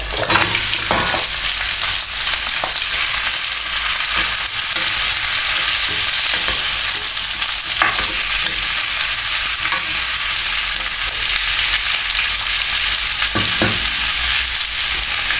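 Onions, cardamom and other spices sizzle steadily in hot oil as they are stirred in a pan for a wedding-style cauliflower curry, with a continuous loud fry and the occasional scrape of the spoon and no talking.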